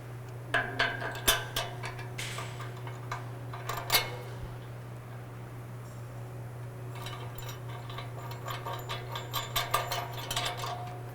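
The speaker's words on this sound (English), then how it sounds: "So now we're going to actually attach the bumper shell to the brackets using the bolts," Bolts and nuts being tightened by hand tool to fix a Go Rhino BR20 rear bumper shell to its brackets on a 2015 Chevy Silverado HD: quiet, close ratcheting clicks in short bursts with a steady low hum beneath.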